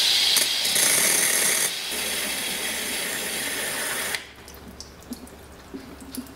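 Water rushes loudly into a Volkswagen GTI's cooling system for a few seconds, then cuts off, leaving quiet with faint drips and small clinks.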